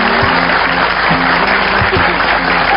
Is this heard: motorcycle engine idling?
no